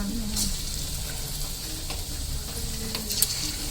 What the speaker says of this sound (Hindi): अब जो है ना पकौड़ियाँ फ्राई करेगी